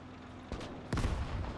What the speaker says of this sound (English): Soviet mortar firing for full effect as well